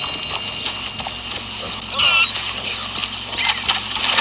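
Horse hooves clip-clop steadily at a walking pace in the Red Dead Redemption 2 video game, moderately close, with other game ambience around them.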